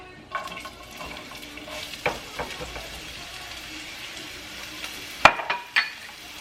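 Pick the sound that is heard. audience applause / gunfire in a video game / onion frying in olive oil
onion frying in olive oil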